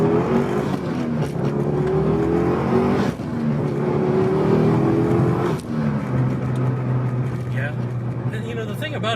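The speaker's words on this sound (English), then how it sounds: "you can hear the recirculating blow-off valve." A Mitsubishi Lancer Evolution GSR engine revs in short bursts up close, with the recirculating blow-off valve venting as the throttle lifts, over a steady idle hum.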